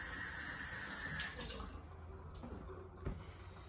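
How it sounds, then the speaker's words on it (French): Apple rinsed under a running tap, a quiet, steady stream of water with faint splashing and a small knock near the end. "on va commencer par laver la pomme."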